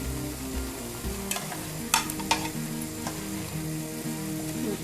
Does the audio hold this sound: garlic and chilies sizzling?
yes